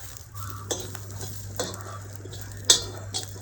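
Whole spices being stirred and fried in a pan for a Malvani-style chicken dish, with a soft steady sizzle broken by several sharp scrapes and clinks of a spoon against the metal pan.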